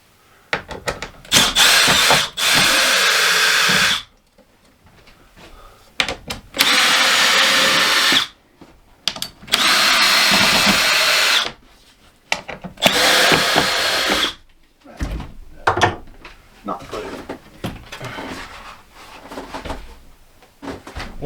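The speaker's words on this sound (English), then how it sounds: "So let me get all these screws out." A cordless power drill backs screws out of an RV slide room fascia in repeated bursts of a few seconds each, loud and close, separated by quiet gaps with small clicks and handling sounds.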